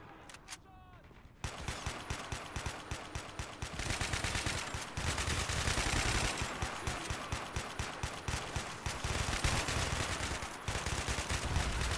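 Continuous gunfire and explosive grenade fire during a convoy ambush in a war video game, dense rapid shots rattling without pause for most of the clip, loud and close after a brief quieter opening.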